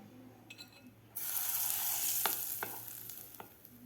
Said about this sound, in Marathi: तेल व्यवस्थित आपल्याला मिक्स करायचं आहे यामध्ये